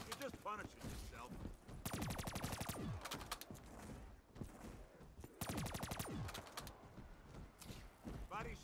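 Bursts of automatic gunfire in Call of Duty Zombies, Shadows of Evil, rapid rattling volleys in two main stretches with scattered single shots between, loud and close, mixed with game effects and occasional talking.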